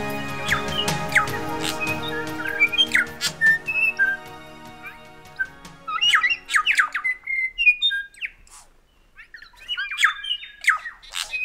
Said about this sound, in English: Stewart Island has one of the most healthy populations and diverse species of birds of anywhere in the country